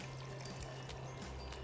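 Water pours steadily into a blender for homemade almond milk, a faint continuous splashing stream heard alone in a kitchen.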